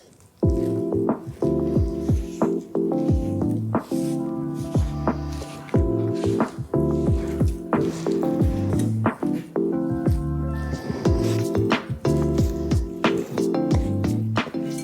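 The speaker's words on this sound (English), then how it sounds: "we simply mix it, just knead it thoroughly by hand into a kind of cohesive dough" Sourdough dough being kneaded thoroughly by hand into a cohesive mass, with close, repeated wet squishing and slapping in an uneven rhythm and no voices.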